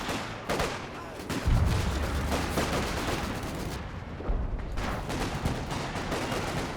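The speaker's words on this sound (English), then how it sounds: "Another concentration barrage right at the base doorstep." A concentrated artillery barrage in Company of Heroes 2 pounds the area near a base, with heavy booming impacts and dense rumbling explosions overlapping in a continuous roar and strong low thuds at intervals.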